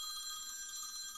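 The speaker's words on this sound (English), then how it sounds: "Is my phone ringing?" A phone rings with a steady, high electronic tone that holds continuously at moderate loudness, with no talk over it.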